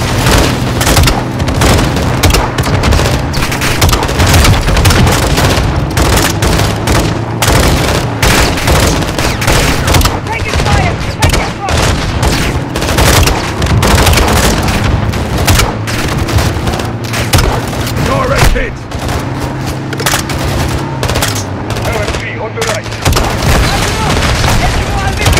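Relentless gunfire and booming explosions in a Call of Duty Modern Warfare 2 campaign firefight, loud and continuous, with voices now and then under the din.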